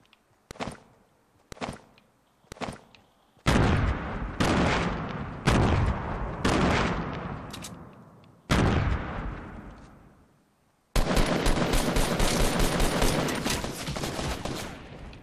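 Gunshots in the video game Fortnite: three short, sharp shots, then a series of loud, booming blasts each with a long decaying tail, followed by a sustained stretch of rapid, continuous firing.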